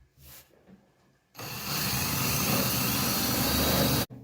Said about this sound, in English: Now I'm just going to drill out the hole.